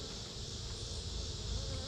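Bees hum at an open beehive, a continuous close, even buzzing drone with no other sounds.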